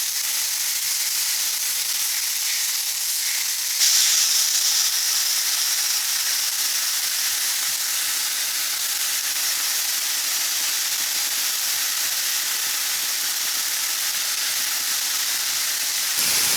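Blackened catfish fries in butter in a pan, giving a steady, close broadband sizzle and hiss that runs unbroken throughout with no talking.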